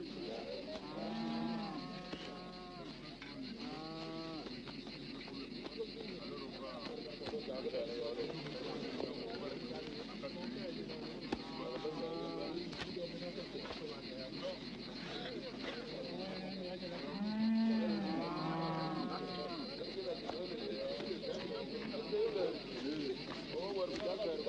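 Mundari cattle moo repeatedly over a steady herd-camp background, several low calls near and far spread across the scene, with voices talking throughout.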